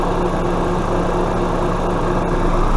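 A car engine idles steadily with a low, even rumble and faint vibration, after the air conditioning system has been recharged, continuous and close throughout with no talking.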